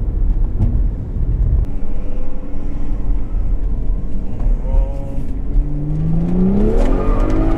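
A 2011 BMW 135i DCT at stage 2 tune accelerates at a little over half throttle, a loud close engine drone rising in pitch with firm gear shifts breaking the climb.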